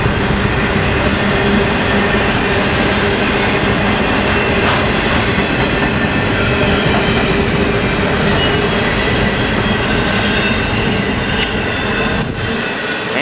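CSX Q155 freight train rolls past at Folkston, a loud continuous rumble of railcars with steady high-pitched wheel squeal and clickety-clack rhythm, close by and uninterrupted by voices.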